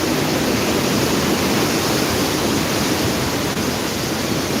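Strong typhoon wind during Typhoon Uwan in Camarines Sur, Bicol, roaring as a dense, unbroken broadband rush that stays loud and steady throughout with no voices.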